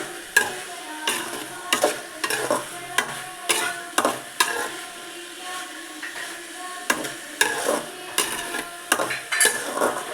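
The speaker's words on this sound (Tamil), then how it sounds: "இது நல்லா கருப்பாக ஆகிற அளவுக்கு வதக்கணும்" Food is sautéed in a pan over steady sizzling, with a spoon scraping and clinking against the metal in a repeated, irregular stirring rhythm, close and fairly quiet.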